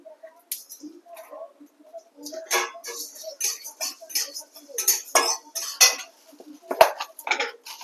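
Fennel seeds are stirred in a frying pan with coriander and garlic while pickle is made. Spoon scrapes and metallic clinks come in irregular bursts, close and fairly quiet, with no voices.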